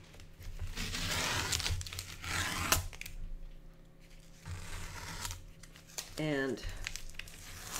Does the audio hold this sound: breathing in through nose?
no